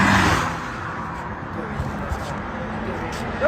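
Cars pass along a busy street, with a louder rush of traffic at the start that settles into a steady mid-level road hum.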